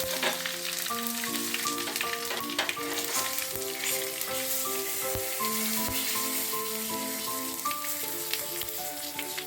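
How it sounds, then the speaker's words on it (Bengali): Cumin seeds, dried chilli and bay leaf sizzle and crackle steadily in hot oil for tempering, a dense close frying hiss running throughout with soft musical tones playing over it and no talking. "প্রথমে তেল গরম করতে দিয়েছি, জিরে লঙ্কা এগুলো দিলাম ফোড়নে, তেজপাতা দিলাম"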